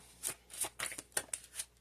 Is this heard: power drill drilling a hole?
no